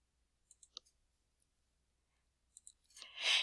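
A few sharp computer mouse clicks in quiet surroundings, a pair early on and a couple more near the end, followed by a brief rising burst of broadband noise.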